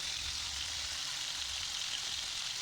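Fish fillets frying crisp in hot oil in a home kitchen pan, a steady close sizzle with a dense crackling hiss running unbroken throughout.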